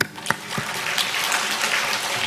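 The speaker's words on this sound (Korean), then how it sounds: "하나님께 영광 박수 드립니다" A church congregation at a New Year thanksgiving service breaks into steady applause, a continuous wash of many hands clapping at moderate volume, with no talk over it.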